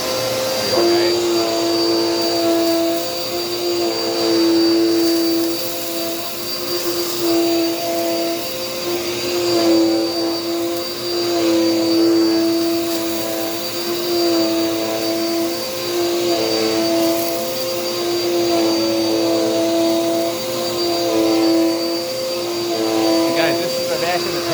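A Dirt Devil Power Max vacuum cleaner runs steadily and loudly, its motor whine holding a constant pitch with slight fluctuations as it moves over a floor, continuous from start to end.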